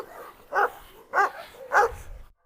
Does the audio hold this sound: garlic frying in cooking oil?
no